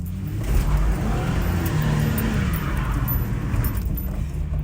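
A V6 car accelerates hard out of a driveway, its engine roaring loud and steady throughout with a low, rumbling drone that eases slightly toward the end.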